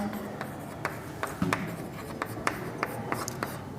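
Pen writing on paper during a maths lesson, a run of quick scratchy strokes and taps at close range, fairly quiet and uneven in rhythm.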